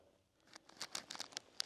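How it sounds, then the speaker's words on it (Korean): Rain patters at an abandoned, unfinished building on a stalled campus construction site in the mountains of Pyeongchang, Gangwon: faint, scattered crisp ticks and drips of varying loudness, with no voices. "비가 내리고 있습니다."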